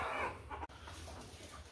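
Two broody hens give low, close clucks and soft grumbling calls over a brief moment, with a small rustle or bump in the middle.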